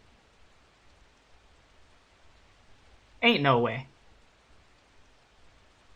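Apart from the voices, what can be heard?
rain falling in Arknights video game story scene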